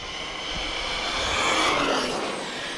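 Hobao Hyper ST Pro RC truck with a brushless 4278 2000kv motor on a 4S battery whirs steadily and fairly loudly, a continuous high-pitched motor whine swelling slightly mid-clip and easing off.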